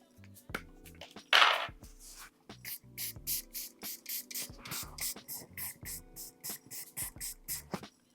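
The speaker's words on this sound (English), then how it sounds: "So when I spray it down multiple times, at least that's protected." A makeup setting spray is misted repeatedly, a rapid series of short hissy pumps after one longer burst, close and clear in a quiet room with no talking.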